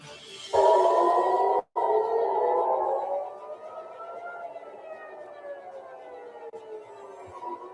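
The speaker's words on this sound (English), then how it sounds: "CNN's crew in Tel Aviv captured the moment that air raid sirens rang out over the city" Air raid sirens ring out over Tel Aviv during incoming ballistic missile fire, a loud wailing tone that rises and then slowly falls away, echoing across the city, with a brief cut near the start.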